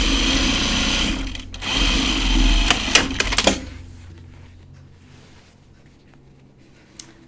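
A sewing machine stitching a jacket runs in a fast, steady whir for about three seconds, then a few sharp mechanical clicks and stops, followed by near quiet with a faint tick.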